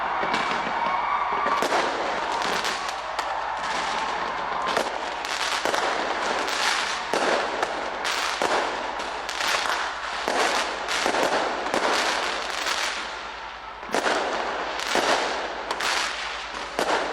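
Fireworks bursting continuously over a New Year celebration in Nigeria, with dense rapid cracks and booms following one another, loud and close throughout.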